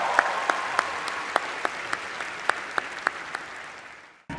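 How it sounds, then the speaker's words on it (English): Steady audience applause fills a comedy roast venue, a dense wash of clapping with a few sharper claps standing out, holding loud and even before cutting off abruptly near the end. "Huge round of applause."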